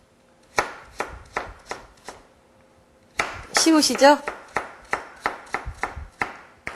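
A knife chops potatoes into onion-sized pieces on a cutting board while a hamburger steak is being prepared, giving a quick, even series of sharp thuds. A short speaking voice cuts in partway through.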